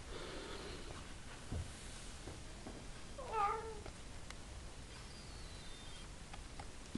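A ten-year-old pet cat gives a single short meow midway through an otherwise quiet indoor moment, near and soft, with faint breathing-like rustle around it.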